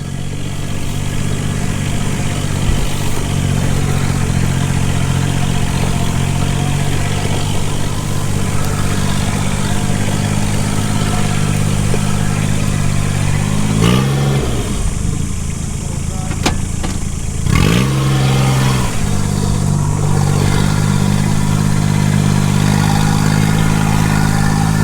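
A Kubota RTV900 utility vehicle's 900cc turbo diesel engine runs at a steady, loud drone for the whole stretch, with a couple of brief changes in pitch partway through.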